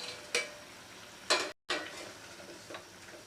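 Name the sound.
curry gravy simmering in pan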